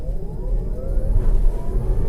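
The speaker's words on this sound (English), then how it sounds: "I put the car in sport, and let's try the acceleration." Kia e-Niro electric car accelerating hard in sport mode while joining a motorway, a steady low road and motor drone with a faint rising whine, close and continuous.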